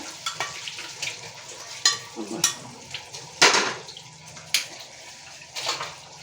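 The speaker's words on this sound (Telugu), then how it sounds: "తాలింపు అయిన తర్వాత నూనె కూడా కాస్త ఆరింది ఇప్పుడైతే నేను పచ్చడిలో వేసుకుంటున్నాను" Hot oil tempering stirred into a red chilli pickle, with soft wet mixing and faint sizzling broken by sharp scraping clinks of a spoon against the vessel, close and irregular.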